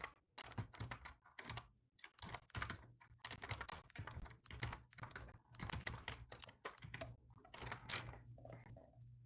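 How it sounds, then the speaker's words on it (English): Someone types quickly on a computer keyboard, keys clattering in uneven bursts with brief pauses, close and clear with no talking. "My typing is so shitty."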